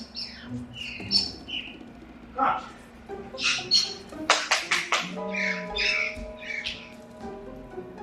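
Several pet birds squawk and chirp indoors in sharp, repeated bursts, some loud and close, while people talk in the background.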